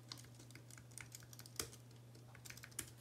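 Keystrokes tapped out on a computer keyboard while a login name is entered, a quick irregular run of light clicks with a few sharper presses, heard alone over a steady low hum.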